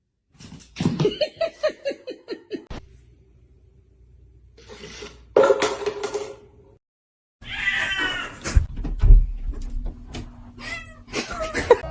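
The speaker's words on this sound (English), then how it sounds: "Cats." Several cats meow and yowl in rapid rising cries, then scuffle and caterwaul in a fight, loud and close, with gaps of near silence between bursts.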